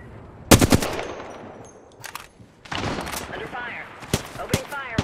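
Gunfire in the video game Apex Legends, with a sharp, loud automatic burst near the start and several more short shots and bursts later, mixed with game voice callouts.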